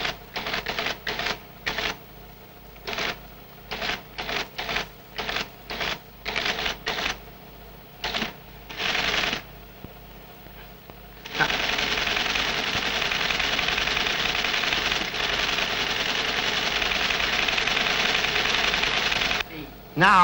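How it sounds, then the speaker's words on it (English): A teletypewriter prints out a computer program, first in short clattering bursts with pauses and then in a long continuous run of rapid typing, close and steady. "the computer has just typed out the program that I wrote a few days ago exactly as I wrote it by typing at this teletypewriter"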